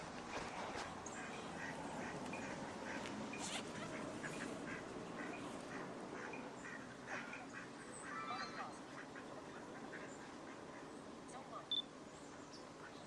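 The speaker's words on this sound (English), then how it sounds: "I do see some ducks here too." Ducks at a waterside spot in Victoria give scattered quacks at moderate distance over steady outdoor ambience, with a person speaking and camera clicks in between.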